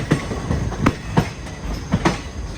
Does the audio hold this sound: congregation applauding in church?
no